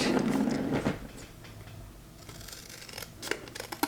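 Scissors snip through paper being trimmed for a small accordion-fold book, a cluster of close, crisp cuts at the start followed by quieter handling and a few sharp clicks near the end.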